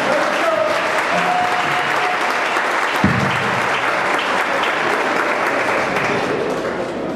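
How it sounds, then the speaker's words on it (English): Guests at a technical school reunion dinner give a sustained round of applause, a thick, continuous wash of many clapping hands filling the room for over seven seconds, loud and even with a single thump partway through. "I think we should give ourselves a round of applause."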